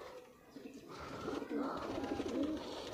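High flyer pigeons in a neighbour's rooftop loft in Attock, Punjab, give soft, repeated throaty coos. The calls grow fuller after the first second and carry on without speech.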